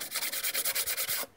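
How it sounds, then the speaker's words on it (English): Steady back-and-forth rasping of P220 fine-grit sandpaper rubbed by hand over a DOHC engine cylinder head, about a dozen quick rhythmic strokes, close and fairly loud, then it stops. "sanding just to take the dirt off, not the head surface off"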